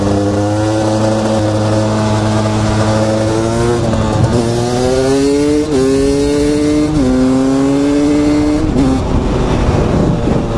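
A motorcycle engine drones loudly and steadily while riding, its pitch climbing through several gear changes with brief dips between shifts as the bike accelerates, heard up close without talk.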